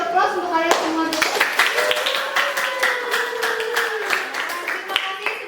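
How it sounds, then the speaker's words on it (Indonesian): A class of students in an Indonesian classroom claps together at the end of a lesson, a brisk close burst of many hands that carries on steadily with voices sounding over it. "mari kita beri aplaus untuk kalian semua dulu"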